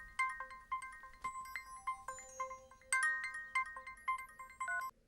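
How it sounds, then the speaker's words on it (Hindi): An incoming call on a phone plays a bright electronic ringtone of quick repeating melodic beeps, fairly clear and alone with no talking. "भाभी फोन कर रही है, बात कर।"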